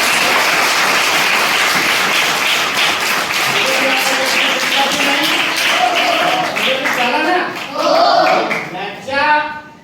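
An audience at a Marathi lecture on scientific thinking applauds in a sustained, dense burst of clapping. The applause gradually thins out toward the end, where a few voices come through.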